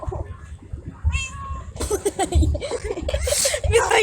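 A house cat meows near the microphone, a short tonal call followed by someone talking loudly in French over further rustling and noise.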